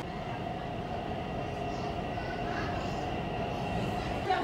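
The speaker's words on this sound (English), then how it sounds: "We're now heading down the stairs to catch the metro" A metro train in Wuxi, China, rumbling steadily along the rails from inside the carriage, a continuous close drone with faint rattling and a slight rise in the last moments.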